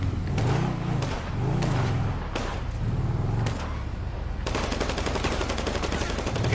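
Gunfire in GTA V Roleplay: bursts of shots and thuds over a steady engine-like drone, ending in a dense rapid burst of automatic fire near the end, loud and close.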